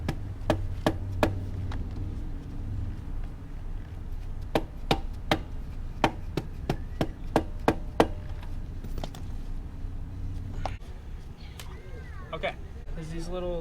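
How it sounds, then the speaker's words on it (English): A hammer gives a series of sharp, irregular light taps on the clutch cover of a 2018 Honda CBR 650F motorcycle to loosen the gasket. The taps ring out close with short pauses between them, and someone talks over parts of the sequence. "So you use a hammer."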